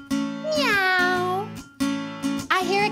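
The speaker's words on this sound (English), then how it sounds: "I hear a cat." Several drawn-out, rising-and-falling cat meows, each loud and close, sounding in sequence over a steady musical backing in a children's sing-along song.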